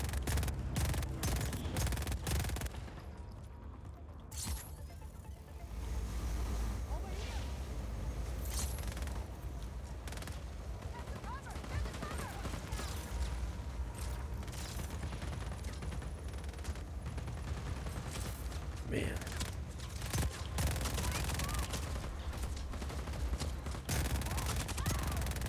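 Heavy, sustained gunfire from the video game Just Cause 4, with dense overlapping bursts and booming blasts rolling almost without pause for the whole stretch, loud and close.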